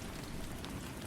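Steady rain falling and pattering on a surface, a dense, even hiss that stays constant and fairly soft throughout, with no voices or thunder.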